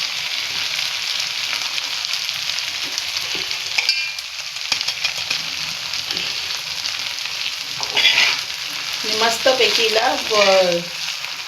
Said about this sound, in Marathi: आपण याला याच्यावर बारीक गॅसवर मस्त असं तळून घेऊया